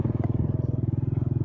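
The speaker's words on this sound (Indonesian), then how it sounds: "Ini adalah motor untuk pacaran sebenarnya. Jalannya pelan-pelan soalnya." A slow-moving motorcycle's engine putters in a steady, even low thump, close and continuous throughout with no talk over it.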